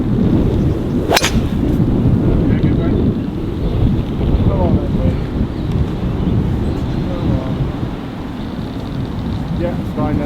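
Strong gusty wind buffets the microphone on a golf course, a loud continuous low rumble throughout, with brief sharp knocks and a faint voice in the background.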